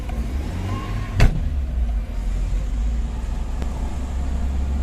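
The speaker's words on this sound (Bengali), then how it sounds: "nice engine sound, engine condition খুবই ভালো" A Toyota Corsa car engine runs at a steady low idle, a close, continuous rumble with a brief click or thump early on and no talking.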